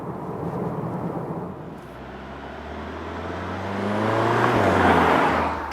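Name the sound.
Audi SQ2 car driving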